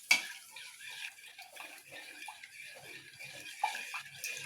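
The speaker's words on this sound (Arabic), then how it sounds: "وهنقلب السكر مع اللبن لغاية ما يدوب تماما." Sugar is stirred into milk in a pot at home while making a Lebanese sweet, giving soft, irregular swishing and scraping sounds close to the listener, fairly quiet.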